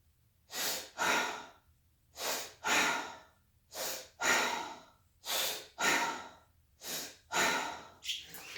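Chest breathing as an energising exercise: about a dozen loud, forceful breaths taken close by in a steady rhythm, each a sharp rush of air, in pairs separated by short silences.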